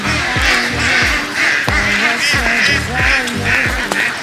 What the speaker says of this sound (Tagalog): Ay, may mga ibon na ano.